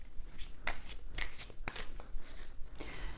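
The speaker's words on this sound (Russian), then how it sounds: "Ой, карты летят." Tarot cards being shuffled, with a few slipping out and flying loose, make quick papery riffles and several sharp snaps and flicks over about three seconds. The sound is close and moderately quiet, with no talking.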